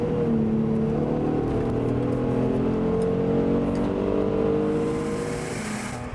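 A 3-litre V6 in an Italian car revs and whirs steadily at high pitch, the engine note holding strong and close, then easing slightly near the end with no one speaking.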